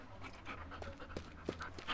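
Rapid, breathy panting from a puppy close by, a quick rhythmic huffing run that goes on throughout the clip, with a few sharper bursts near the end and a low hum underneath.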